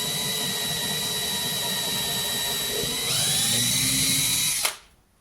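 Power drill boring through a model railway baseboard, a loud, close, steady whine that rises in pitch midway, then cuts off abruptly and spins down to quiet.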